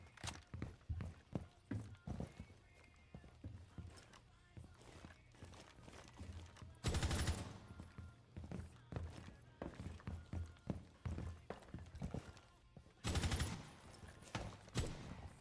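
Video game gunfire: a busy stream of sharp shots and clicks with two louder, denser bursts, mixed with quieter game sounds throughout.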